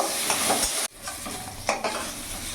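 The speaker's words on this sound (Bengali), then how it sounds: "এবার ভালো করে নাড়াচাড়া করে লাল লাল করে ভেজে নামিয়ে নেব।" Brinjal pieces seasoned with salt and turmeric fry in a pan while being stirred, giving a steady close sizzle broken by a brief pause and the scrape of the spatula.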